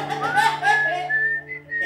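Someone whistles a short wavering tune up close indoors during a casual chat, the notes sliding and stepping between pitches against a faint low background hum.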